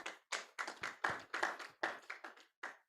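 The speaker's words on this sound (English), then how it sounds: "Can we please appreciate him with an applause one more time?" Scattered hand claps from a small group at a technical symposium, uneven bursts spaced irregularly, fairly close and modest in volume.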